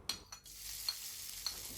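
Crushed ginger fries gently in hot pakora oil with dried red chillies for a tarka, giving a faint, steady sizzle broken by a few light clinks of a stirring spoon.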